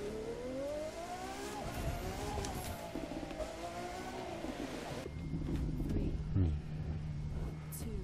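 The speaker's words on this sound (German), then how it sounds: "Und wir gehen rein mit unserem Ferrari." A Ferrari races through city streets in The Crew 2, its engine droning steadily with rising and falling pitch, then shifting to a deeper rumble with wind noise partway through, while a voice talks over it.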